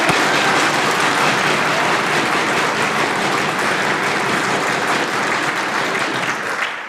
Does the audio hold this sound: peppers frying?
no